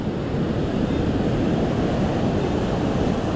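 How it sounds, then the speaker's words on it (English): Powerful ocean surf with a strong undertow makes a loud, continuous rushing roar close by, mixed with wind buffeting the microphone and no voices. "I can feel the undertow on this. This is some serious waves"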